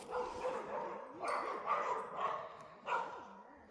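A dog in the video game Puzzle Walker barks and yips in a series of four or five short bursts with whiny tones between them, moderately loud over a quiet background.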